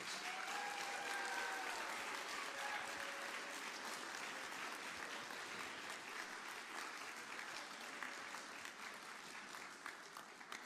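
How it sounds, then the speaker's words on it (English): Quiz bowl participants and audience give themselves a long, dense round of applause in a hall, continuous and even throughout, fading slightly toward the end. "Give yourselves a big round of applause."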